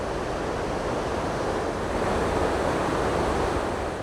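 Water rushing over a waterfall at Lake Spaulding, California: a steady, loud, broadband roar with no breaks, close by, lasting about four seconds, with no talking.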